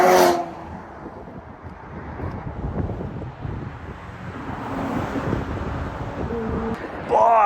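A tuned McLaren 720 accelerating past on a Normandy motorway: a broad, rising roar builds under heavy wind buffeting, with brief voices at the start and end.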